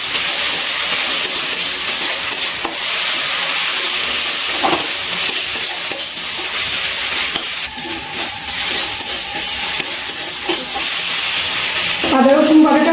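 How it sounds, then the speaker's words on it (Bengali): Ginger-garlic paste with green chili paste sizzles loudly in a hot pan while being stirred for a jackfruit and prawn curry, a continuous close frying hiss with occasional scraping of the spatula. "এবার খুব ভালো করে আদা রসুন বাটা কষিয়ে নিচ্ছি।"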